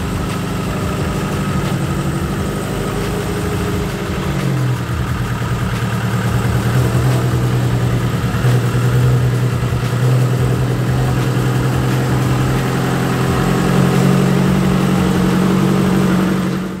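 A Subaru engine with a newly installed intercooler runs steadily, idling with a low, even rumble that rises slightly and holds as it revs, close and continuous without talk.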